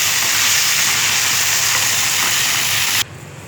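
Green chillies frying in hot oil for semiya upma, a loud, steady, close sizzle that holds evenly for about three seconds before dropping away abruptly.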